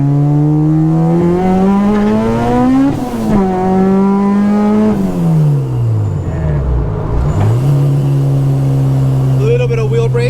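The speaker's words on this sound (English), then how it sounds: "Yeah, and it's just like partial throttling it because I can't go full throttle on it." A supercharged 1994 Honda Civic Si engine climbs through the revs at partial throttle, drops back at each shift and pulls again, loud and close from inside the car, with a brief lull near the end.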